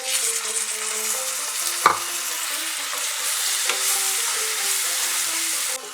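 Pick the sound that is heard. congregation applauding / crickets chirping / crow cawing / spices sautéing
spices sautéing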